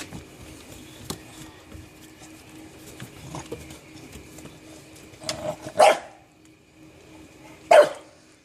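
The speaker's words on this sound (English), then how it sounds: "Yep, we have 4 dogs now." Dogs playing around kennels on a rainy morning give two loud barks, one partway through and one near the end, over quiet patter and faint yips in between.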